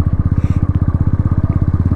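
A motorcycle rides in first or second gear on a mountain road, its engine pulsing in a fast, even, throbbing rhythm, loud and close throughout.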